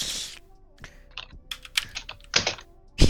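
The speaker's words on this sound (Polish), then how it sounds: "co ty tak spamisz z tą spacją? To wszystko słychać" Rapid, uneven keyboard presses on a spammed space bar, loud and close, with several heavier thunking strikes mixed among lighter taps in a quiet room.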